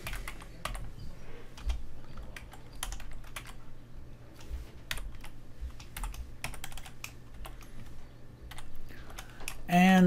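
Soft, irregular clicking of a computer keyboard being typed on, nearby and fairly quiet, over a low steady background hum.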